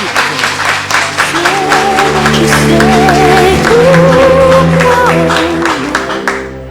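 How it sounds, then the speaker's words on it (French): An audience at a high school quiz competition applauds a team, a loud, dense burst of clapping with scattered shouts and a rising cry, fading toward the end. "Je vous demande d'applaudir cette équipe."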